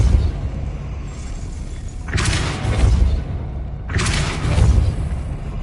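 Two heavy Depulso spell blasts in Hogwarts Legacy, each a booming whoosh with a low thud, bursting out about two seconds apart over a steady rumbling ambience.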